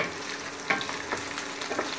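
Finely chopped onion and garlic fry in hot oil in a pan for chicken achari, a continuous close, even sizzle with a few faint clicks and no talking.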